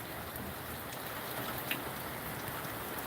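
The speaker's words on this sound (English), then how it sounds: "It's raining out here." Steady rain falls just outside a house's front porch at night, a dense, continuous close hiss of drops with no voices.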